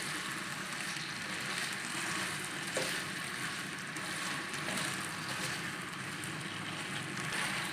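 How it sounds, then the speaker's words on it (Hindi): Finely chopped potato fries in hot oil, a steady, soft crackling sizzle that runs continuously without talk, with a faint clink partway through. "एक आलू डालेंगे बारीक चॉप किया हुआ। अच्छी तरह फ्राई कर लेंगे आलू को।"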